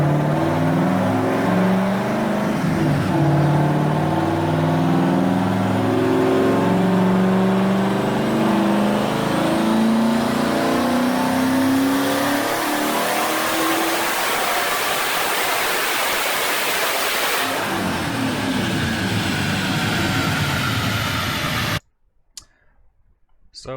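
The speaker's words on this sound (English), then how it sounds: "So here's a video of the dyno session." A 3-valve engine fitted with a Hellion turbo kit runs up on a dyno at Dyno Edge. It is loud and sustained, rising steadily for about twenty seconds before cutting off abruptly into near silence.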